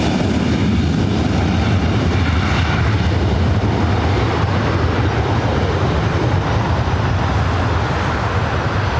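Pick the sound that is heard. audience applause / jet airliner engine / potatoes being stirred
jet airliner engine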